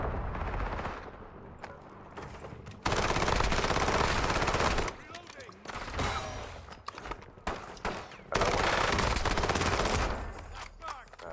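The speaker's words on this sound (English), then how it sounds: "They were shooting at somebody else." Gunfire in the Warzone video game, with dense, sustained bursts of automatic shooting that start and stop abruptly, loud and close, broken by quieter stretches with footsteps and movement.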